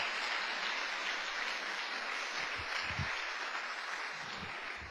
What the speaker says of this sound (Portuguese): vou dar uma salva de palmas para esse crente que dá bom testemunho do seu lado